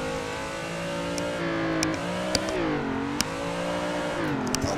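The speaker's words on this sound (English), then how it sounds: "we'll try to finish it off with some good drifting" A car engine in the Assetto Corsa video game revs steadily while drifting, its pitch rising and falling as the throttle is worked, with a few faint tyre or gear clicks and no talk.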